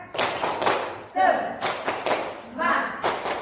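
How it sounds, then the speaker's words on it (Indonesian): A group of Indonesian teachers in a training session clap in rhythm to a chant-style clapping routine, with bursts of claps interspersed with voices speaking and chanting between them. "kita tepuk tangan dulu yuk"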